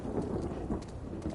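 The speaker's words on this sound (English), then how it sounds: "This fucking seems to rain a lot here." Rain pours steadily with a low rumble of thunder underneath in The Last of Us 2, a brief, fairly faint wash of dense falling drops.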